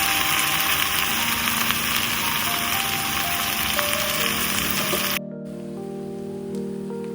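Yam (suran) and potato frying with masala in a pan for an Indian yam curry, a steady loud crackling sizzle that drops abruptly to a quieter hiss with a low hum near the end.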